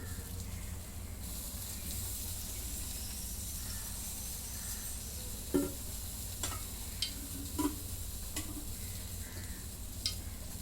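Cooking oil poured into a pot sizzles and hisses steadily at moderate volume, broken by a few sharp pops and clinks from the pot, as the first step of a spicy mutton curry.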